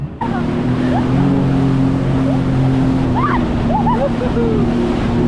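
A steady motor drones on a boat moving over the open ocean, with a constant low engine hum and faint scattered voices in the background.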